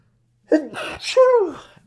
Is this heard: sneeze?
yes